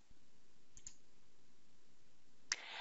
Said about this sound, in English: we're going to finish this off by clicking OK